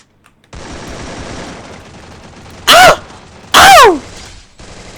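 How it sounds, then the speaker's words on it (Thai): Two loud bursts of gunfire in the Free Fire battle royale game ring out over a steady background hum, each short and sharp with a trailing ring. "ยิงถังทิ้งก่อนครับ"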